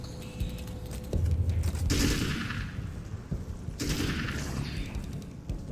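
Gunfire crackles from a weapon in the action game Alan Wake's American Nightmare as two loud rapid volleys, close and punchy, separated by a short lull.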